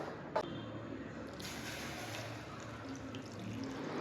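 Water is poured into a bowl of maida flour and coconut dough mix for coconut rotti, a soft, steady stream running quietly and continuously with no talk.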